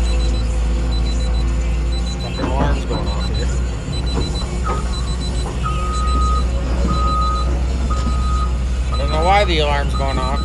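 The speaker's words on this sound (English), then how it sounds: "The alarm's going off" Electronic alarm beeping in repeated short tones from a military video game scene, sounding over a dense bed of engine rumble, gunfire-like noise and scattered voices.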